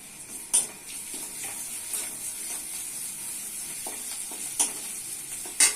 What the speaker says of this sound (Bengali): তেল গরম হয়ে গেছে দিচ্ছি পেঁয়াজ দিচ্ছি পেঁয়াজ লাল হয়ে গেছে দিচ্ছি আদা রসুন বাটা